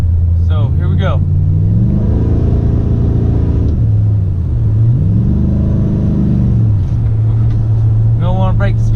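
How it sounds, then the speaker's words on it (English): Chevy Silverado SS with a 6.0 V8, long tube headers and Magnaflow mufflers accelerating, heard from inside the cab: a loud droning exhaust rumble rising and falling through gear changes over about nine seconds. "I'm just gonna go ahead and give it a pretty decent acceleration and see if you guys can tell what the sound is like here in the cab."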